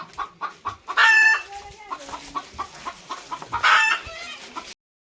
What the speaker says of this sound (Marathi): कोंबडी तर गेली निसटून बघा.